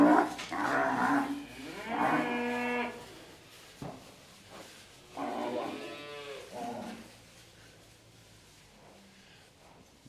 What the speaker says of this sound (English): Silly cow, noisy cow.